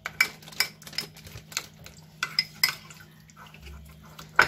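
A big spoon mixes burger filling with mayonnaise in a bowl, making irregular sharp clicks and clinks of metal against the dish, with softer stirring between the taps.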